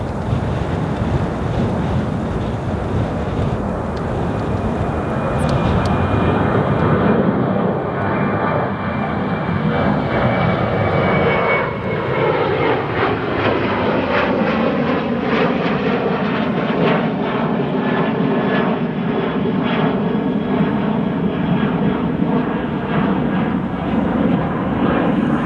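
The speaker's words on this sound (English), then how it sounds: "Got another departure for you guys on 28 right, a" A Boeing 737 departs runway 28 right at O'Hare International at night, its loud, steady engine roar rising and sweeping past with shifting tones, wind buffeting the microphone throughout.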